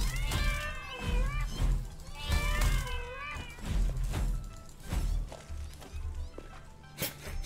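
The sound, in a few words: cat meowing, spiders as cats in video game Satisfactory arachnophobia mode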